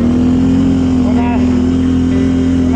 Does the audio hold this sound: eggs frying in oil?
no